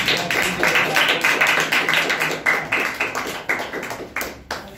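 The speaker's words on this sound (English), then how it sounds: "Well done, clap for Dev." A roomful of audience members claps steadily for Dev, a contestant in a storytelling competition, with dense overlapping hand claps sustained throughout and no talk.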